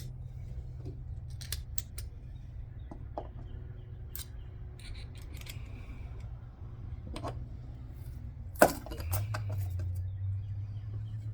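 Scissors cutting material during installation of pedestal seat bases in a Grizzly Tracker boat, with scattered snips and clicks spread over a quiet low hum and one sharp louder knock, no talking.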